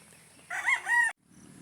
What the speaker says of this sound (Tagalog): bigla na lang may pumutak na manok at bumaba ng pugad